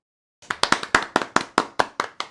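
A small group of board game players clap their hands together in about ten sharp, evenly spaced claps at close range, with no talking over them.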